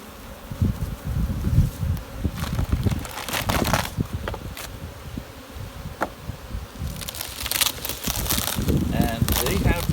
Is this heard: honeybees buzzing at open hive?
yes